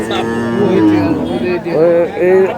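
A cow at the Bishnondi cattle market in Narayanganj lows loudly several times in drawn-out moos, close by, with market noise underneath.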